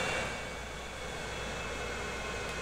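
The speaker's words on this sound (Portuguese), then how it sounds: "Olha aí o novo avião." Distant, steady engine drone of a new airplane departing in Transport Fever, a faint continuous hum with no one speaking.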